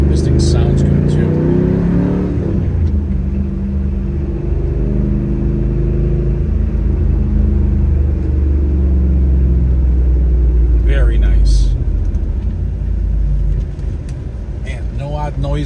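A 1997 Pontiac Trans Am WS6 engine rumbles steadily while driving down the road, with a low drone and a shift in pitch partway through, under a brief spoken remark.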